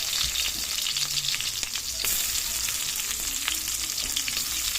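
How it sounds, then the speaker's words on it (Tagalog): Garlic and onion sauté in a pan for a tomato dish, giving off a loud, continuous hiss and crackle with occasional stirring clinks, close by and without talking. "Igisa. Yan yung bawang. Mix natin sibuyas."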